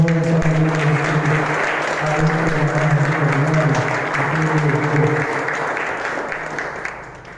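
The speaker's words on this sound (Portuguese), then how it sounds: "Uma salva de palmas ao nosso Senhor" A church congregation claps steadily during a Sunday morning service, the applause filling the room before slowly thinning out, with a voice speaking over it.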